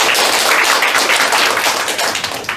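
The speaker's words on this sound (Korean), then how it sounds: "큰 박수 부탁드립니다" Loud, dense applause from the crowd at Busan's 21st Energy Day proclamation ceremony, a thick continuous roar of clapping that eases slightly near the end.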